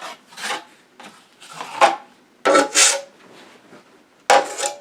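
A drywall knife rasps across wet joint compound on a cracked wall during a second coat. Short scraping strokes come in separate bursts with brief pauses between them, close and clear.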